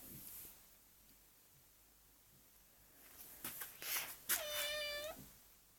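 A domestic cat gives a few short meows close by in a quiet room, one clear drawn-out cry near the end after some faint rustling, with no talking.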